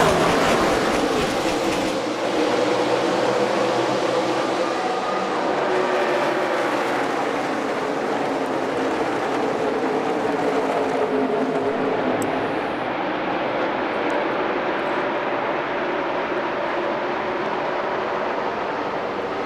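NASCAR stock cars racing at Texas in the Duck Commander 500, a loud sustained roar of engines rushing past with a steady, dense rumble that eases slightly toward the end.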